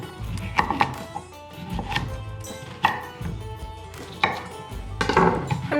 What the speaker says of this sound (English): Then peel and chop the carrots.